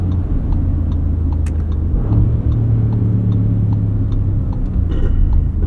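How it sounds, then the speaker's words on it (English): A 2024 Audi SQ7 SUV drives through snow, its engine a loud, steady low rumble from inside the cabin with a sustained drone and slight swells in pitch, and no talking. "This is a fun SUV to drive."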